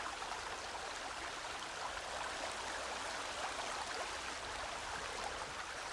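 Continuous rushing water flows in the video game Sons Of The Forest, a steady, dense stream or waterfall roar filling the scene at constant loudness with no talking.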